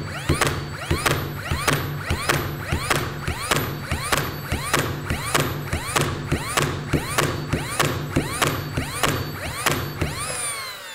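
Bosch GNH 18V cordless nailer fires nails in rapid succession, about seventeen sharp mechanical thumps at an even pace, each with a brief ratcheting recoil, close and loud with no talk.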